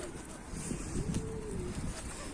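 Soft, low cooing from pigeons in a coop rises and falls briefly against a dense, noisy background.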